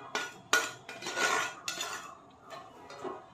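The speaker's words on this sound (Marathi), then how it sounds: "आणि आता हे आपण ढवळून घ्यायचं।" A metal spoon stirs semolina in a cooking pot on the gas stove, scraping and clinking against the sides in several uneven strokes, close and clear with no talk.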